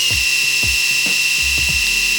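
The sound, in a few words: Sejoy electric shaver running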